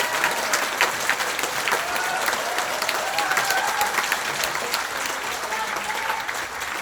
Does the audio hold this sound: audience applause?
yes